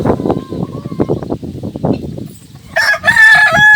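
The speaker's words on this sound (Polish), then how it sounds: "Kurki sobie jedzą." Farmyard chickens feeding make soft clucks and scratching sounds, and a rooster crows loudly near the end.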